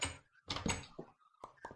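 Short clunky thuds and wooden clicks of a door being placed and moved in Minecraft with the Technic modpack, several separate bursts over quiet game ambience.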